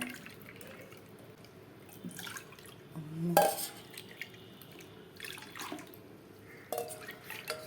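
Fruit juice squeezed by hand and poured into cups makes quiet trickles and drips, with one sharper splash and clink partway through against a soft background.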